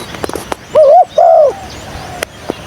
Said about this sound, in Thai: มีนกขันอยู่นี่ครับ เสียงกลาง ขันโยนอยู่นี่